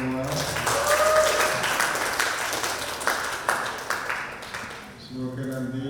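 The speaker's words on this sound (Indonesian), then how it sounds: "tepuk tangan untuk kita semua" Teachers clap at a school event at SMK Negeri 3 Jepara, a dense burst of applause under a speaking voice that fades toward the end as talk resumes.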